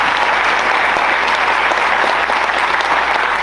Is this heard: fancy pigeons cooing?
no